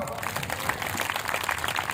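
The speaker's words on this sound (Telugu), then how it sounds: "చప్పట్లు కొడదామా?" A church congregation at Hosanna Mandir in Piduguralla claps together, a dense, continuous patter of many hands filling the room evenly at moderate distance.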